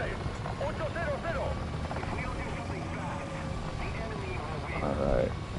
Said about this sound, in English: That's a helo who's doing that, firing at me